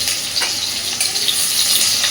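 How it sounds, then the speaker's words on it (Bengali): Long-cut potato slices fry in hot oil, producing a continuous bright, close sizzle with faint bubbling and brief stirring sounds. "এবার আমি লম্বা লম্বা করে কেটে রাখা আলুগুলো দিয়ে দিচ্ছি"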